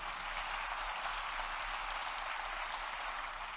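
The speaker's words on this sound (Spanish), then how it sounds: "Dele fuertes aplausos al Rey." Congregation applauding during a church sermon, a faint, even wash of clapping heard from a distance, with a low hum beneath.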